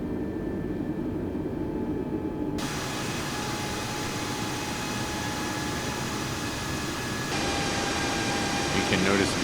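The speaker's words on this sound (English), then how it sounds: "Give it a little bit of power here. Take some thrust there to get the aircraft moving." Airbus A320 engines in Microsoft Flight Simulator 2020 as thrust is added to start the aircraft rolling, a steady broadband roar that thickens and grows louder in stages.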